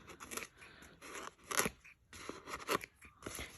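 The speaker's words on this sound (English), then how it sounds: "And then you just get your scissors and snip." A few quick snips of scissors cutting the strings off sewn, swatched journaling cards, crisp close cuts in an irregular rhythm with brief pauses and light paper rustle between them.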